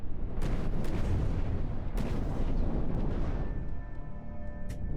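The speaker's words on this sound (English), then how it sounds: "We're still firing crams back." CRAM cannons in From the Depths fire amid an airship battle, several sharp loud reports punching through a constant rumbling roar of explosions, with a fading whine as the barrage thins near the end.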